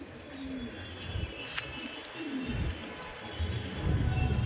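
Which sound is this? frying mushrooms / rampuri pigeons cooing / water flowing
rampuri pigeons cooing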